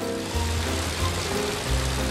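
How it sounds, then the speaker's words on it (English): Continuous hiss of rain falling in a cartoon, with a sustained musical tone running beneath it and no talking. "Oh no, it's raining."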